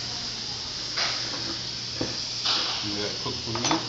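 Shrimp sizzle in a hot pan beside a reducing sauce for shrimp pasta, a continuous close hiss with a few scraping stirs and clinks, and someone talking briefly over it.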